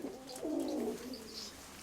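Breeding-pair pigeons in an upper loft give a short, close, throaty coo that rises and falls over a faint background hiss.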